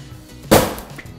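A single sharp metallic clink of a sledgehammer against concrete rings out once, loud and close, then fades quickly.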